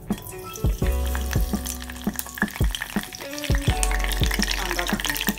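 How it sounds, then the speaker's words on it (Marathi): Curry leaves tossed into hot oil in a kadhai for tempering with onion, crackling and sizzling steadily with sharp pops and clinks of a spoon, close and loud, no talk. "आता आपण कढीपत्ता टाकून घेऊया।"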